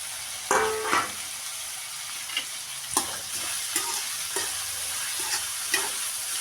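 Beetroot with onion and salt fries in a pan for a homestyle rasam, a close sizzle broken by sharp, repeated spoon stirs and scrapes against the pan, no talking.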